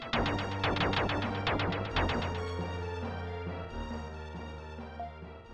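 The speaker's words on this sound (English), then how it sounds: "This vibrating sound. It's Morse code." Morse code signal in the video game Illusion of Gaia, a loud, steady electronic tone with rapid rhythmic pulses at the start that settle into a sustained, slightly throbbing hum, heard alone.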